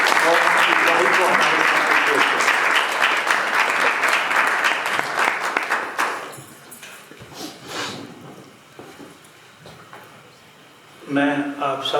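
An audience claps loudly and densely to welcome Pastor Marshall at a thanksgiving gathering. The applause then fades out, and a voice speaks briefly in the quieter remainder.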